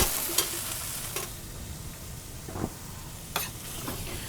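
Sauce sizzles steadily in a hot pan for baked mushroom parm sandwiches, with a few sharp scrapes and clinks of stirring over the continuous frying hiss.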